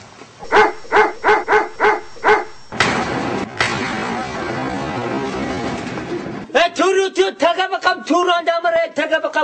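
Large dogs barking at a house visit, a burst of several sharp barks followed by a stretch of rough noise, then more barking mixed with people talking and greeting each other.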